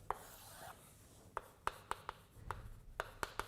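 Chalk or marker writing out an equation on a lecture board, a series of about ten crisp taps and short strokes spread unevenly over a few seconds, close and fairly clear above a quiet room hum, with no talking.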